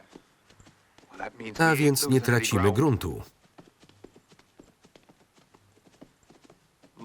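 A horse's hooves clip-clop at a steady walking pace in a western, loud and close. A voice talks over the hooves for a stretch, then they continue alone.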